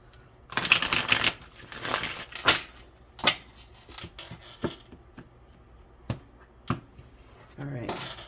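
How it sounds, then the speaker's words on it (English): Oracle tarot cards get shuffled by hand in bursts of papery riffling and soft slaps, separated by scattered sharp taps and brief pauses, with a voice speaking at times. "So last shuffle on this."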